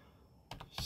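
Two quick, close computer keyboard keypresses, a Ctrl+S save shortcut typed during 3D modelling work, faint and crisp with no voice.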